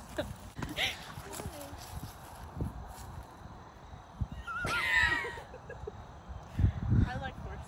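Hooves clip-clop irregularly on a hard surface while people talk nearby, with a few sharper knocks and a brief animal call midway.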